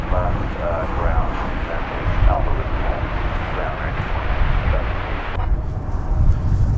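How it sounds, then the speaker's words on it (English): A Boeing 737-800 airliner arriving at DFW Airport from Austin, its engine roar a steady, fairly loud broadband rush throughout with some wind noise on the microphone. "This flight coming in from Austin, Texas, 737-800, flight 2197"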